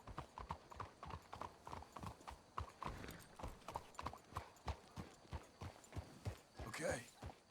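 Steady clip-clop of horse hooves in Red Dead Redemption 2 walking at an even rhythm, close and clear, with a brief whinny near the end.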